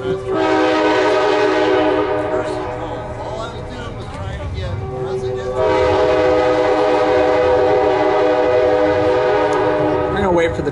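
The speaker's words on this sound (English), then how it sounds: "We're gonna wait for the train to pass." A passing train blares a loud, sustained horn with a brief break in the middle, rolling rumble underneath, with people talking through it.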